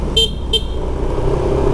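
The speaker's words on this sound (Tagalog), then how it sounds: "Tapos yung busina niya ganito." Two quick beeps of a Yamaha NMAX 2020 scooter horn, close and sharp, over the low rumble of an idling engine.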